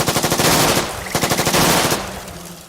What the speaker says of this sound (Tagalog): Mabilis na umalingaw-ngaw ang maraming tunog ng baril sa paligid.